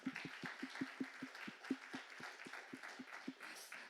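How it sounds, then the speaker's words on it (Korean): A church congregation in a Sunday afternoon service claps, a quiet, distinctly rhythmic beat of sharp, evenly spaced hand strikes roughly five per second, with softer scattered clapping around it. "다시 한번 큰 박수 쳐줄까요?"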